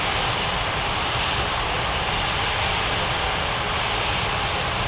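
Airliner jet engines in the Unmatched Air Traffic Control game at Springbrook International, a steady, dense roar holding level throughout without breaks or voices.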